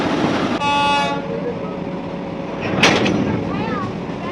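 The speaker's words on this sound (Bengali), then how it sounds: "এই যে কার্গো ট্রেনটি চলা শুরু হয়েছে" A cargo train with engine number 6310 pulls away near a station, its horn sounding once, followed by rumbling wheels and clanks and a short screech, all fairly loud and close.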